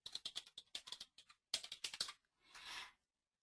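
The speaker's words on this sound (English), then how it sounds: "So, again, I'm typing my credentials." Fingers typing credentials on a computer keyboard, with rapid clustered keystrokes in two bursts separated by brief pauses, close and fairly quiet, ending in a softer rustle.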